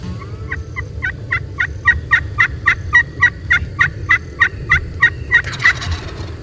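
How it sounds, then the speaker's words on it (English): A wild Osceola turkey in Florida gobbles in a rapid series of about sixteen evenly spaced calls, each a clipped burst, carrying clearly over a low steady background rumble with no talking. "we just heard a gobble down to the south, so he's getting close"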